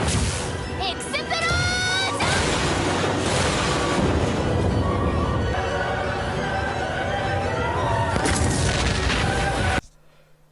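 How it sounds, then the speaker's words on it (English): A big anime-style explosion spell blast effect, a long roaring boom and crashing rumble that stays loud for about ten seconds with ringing tones mixed in, then cuts out abruptly. "By looking at the size and the radius of the explosion, it is very clear that it is using nuclear fission."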